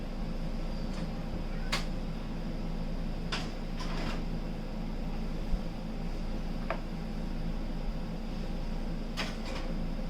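French bread loaves slid into a home oven, with a few sharp clunks and taps of the oven door and rack over a steady low hum, close by.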